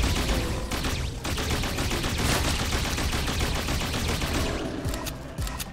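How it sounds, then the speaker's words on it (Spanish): Rapid machine-gun fire rattles on almost without pause in the demonic first-person shooter Project Warlock 2, dense and loud across the whole stretch, ending in a few scattered single shots. "Vale, enemigos a distancia, mejor la ametralladora."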